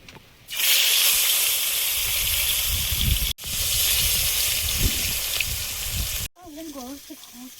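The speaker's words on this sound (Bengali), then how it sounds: "মাছগুলো ভেজে নেব।" Belle fish frying in hot oil in a home kitchen, a loud, steady broadband sizzle that runs continuously, breaks off briefly twice, then returns more quietly while a voice speaks over it.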